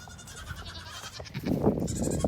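Goats on a farm during morning chores bleat amid steady outdoor noise, with the loudest bleating rising near the end.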